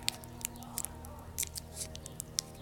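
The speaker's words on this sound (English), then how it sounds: "Why don't you use the scissors?" Scissors snipping open a package during an unboxing of a vape mail order, a series of short, sharp, close-up clips at an irregular rhythm over a quiet, low background hum.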